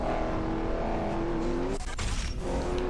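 Cars race in the Mario Kart-style video game Blur, with a steady roaring engine whine rising in pitch, a brief swooshing pass and tire noise, loud and continuous.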